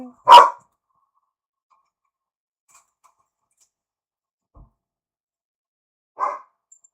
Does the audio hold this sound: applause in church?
no